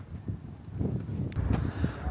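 Gusty wind buffeting a microphone at a high viewpoint in Copenhagen, low rumbling bursts that rise and fall unevenly over a couple of seconds, close and blustery.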